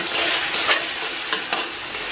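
Scallion, ginger and Lameizi chili sauce are stir-fried in oil over low heat in a wok, with a dense, steady sizzle and soft scraping stir strokes close by.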